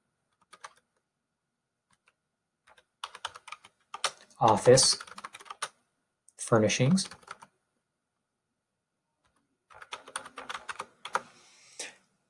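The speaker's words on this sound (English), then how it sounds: "And now I'm going to type in ergonomic" Someone types on a computer keyboard while entering text into a Microsoft Word 2019 document, producing quick bursts of close key clicks separated by pauses, with a person speaking between the bursts.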